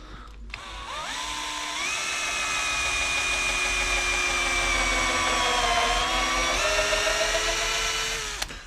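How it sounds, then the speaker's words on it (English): A power drill drives screws into wood nearby for several seconds, its motor pitch rising as it spins up, dipping under load, then climbing again as it drives in. "So now we're on to the drilling in the reverse cleat onto the box"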